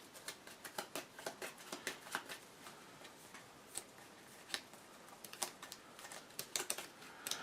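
Game cards from the Aeon's End board game are shuffled by hand at a table, giving a quick run of soft, rapid riffling clicks that is close and fairly quiet, with no talk.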